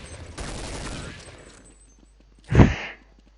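Gunfire from Counter-Strike 1.6 on the fy_pool_day map: a rattling burst of shots in the first second and a half, then a single loud, sharp report near the end.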